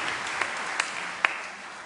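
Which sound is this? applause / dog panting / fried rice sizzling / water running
applause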